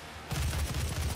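An assault rifle in the Doom video game fires a rapid burst of close, loud, punchy shots in quick rhythm after a brief quiet moment.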